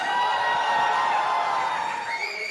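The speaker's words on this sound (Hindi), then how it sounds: "एक बार जोरदार तालियां दीपिका के लिए" A live audience lets out continuous loud crowd noise, cheering and whooping at a film-promotion event, swelling and holding steady throughout at close range.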